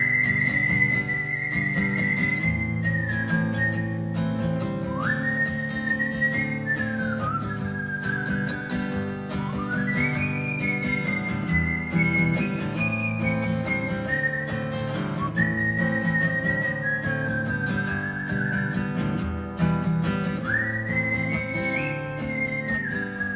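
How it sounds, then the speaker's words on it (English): A person whistles a meandering tune, long sliding notes rising and falling continuously over a steady low background hum. "Hopefully my whistling doesn't come out a little too shrill here."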